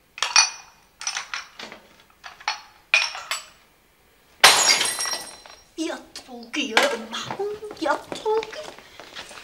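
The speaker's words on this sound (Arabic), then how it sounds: "ما بعرف شلون زبلط من ايدي وقع انكسر" A plate of stuffed vegetables drops and shatters on the floor with one sudden loud crash midway, followed by scattered clinks of broken pieces, while people talk before and after.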